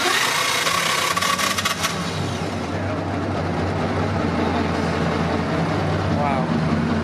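Vintage 2.3-litre Bugatti engine nearly a century old, cranking on its start switch and settling into a steady, loud, rumbling idle that runs throughout, with a sharp burst of starter noise early on.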